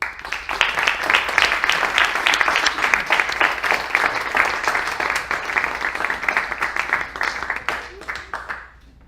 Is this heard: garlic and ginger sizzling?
no